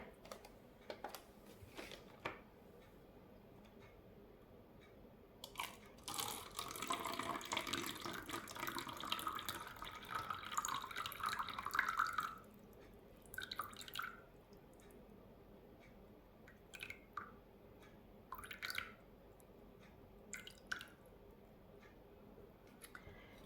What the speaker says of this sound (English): now I need 70 mils of water